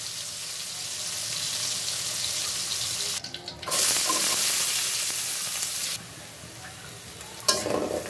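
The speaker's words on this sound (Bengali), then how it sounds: "বন্ধুরা ইলিশ মাছ বেশি ভাজবো না" Hilsa fish frying in a pan gives a steady hiss and sizzle, broken by brief gaps and clatter of stirring or handling, close and fairly loud with no talk.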